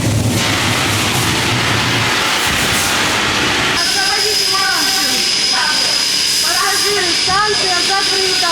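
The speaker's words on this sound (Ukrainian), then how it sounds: "На платформу прибуває потяг." A metro train pulls into an underground platform during an evacuation drill in Kharkiv, with a loud rumbling roll and hiss and then squealing wheel and brake tones as it slows, while a steady high whine carries over it.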